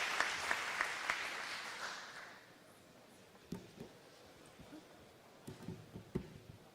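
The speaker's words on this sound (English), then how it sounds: "Big round of applause." Applause from a conference audience at a convention, a short burst of clapping that fades after about two seconds, leaving quiet room noise with scattered knocks.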